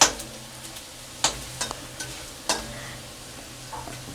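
Chopped onions fry in a pan with a steady background sizzle, broken by sharp scraping clicks of a spoon stirring them every second or so, close and moderately loud with no talking.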